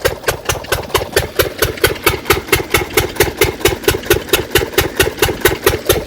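A small water pump engine chugs steadily near Bhavanisagar Dam, pushing water out to a garden. It gives a loud, even, rapid thumping with regular pulses and no voices throughout.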